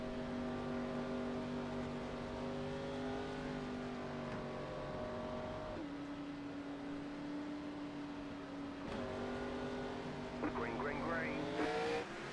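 Race cars in the ANZCAR Abruzzi Cup Series drone steadily around the track behind the safety car, their engines humming in sustained tones that shift gear, under a commentator's continuous talk.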